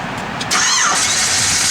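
A 1966 Ford Fairlane with a roller motor cranks briefly, then catches and fires into a loud, close idle that holds to the end.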